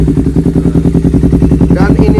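Honda CBR 250RR two-cylinder motorcycle fitted with an R9 H2SS exhaust, idling nearby with a deep, steady pulsing burble and a slight rev toward the end.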